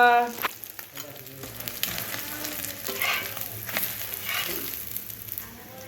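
Steady sizzling and crackling of eggs frying with onion in a hot pan, continuous and close, with faint clinks of a utensil.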